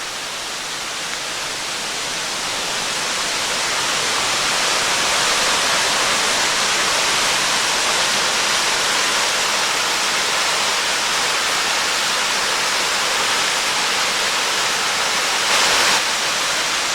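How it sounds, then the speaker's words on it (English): Steady rushing roar of a waterfall along a trail in Ohiopyle State Park, Pennsylvania, swelling from moderate to loud and holding constant with no talking. "Alright, I can hear water on the other side here."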